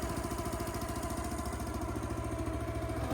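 A SplitForce SF-9 towable log splitter's engine idles steadily while warming up, a continuous low rhythmic putter close by with no talk.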